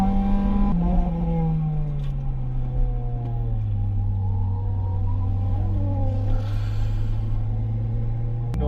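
A Mazda RX-8 drifting at a track event, its engine holding a loud steady drone with shifting pitch throughout, sustained and fairly close with no break.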